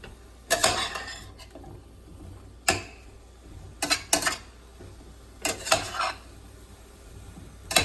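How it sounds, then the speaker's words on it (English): A spoon stirring a dry cauliflower and potato curry in a pan gives sparse metallic scrapes and clinks, a few brief knocks spaced out against a quiet background with no talking. "We have to stir it a little slowly, you don't drop it outside the pan."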